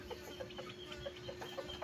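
Soft, repeated clucking from a chicken at a steady rhythm, faint and somewhat distant over a low background hum.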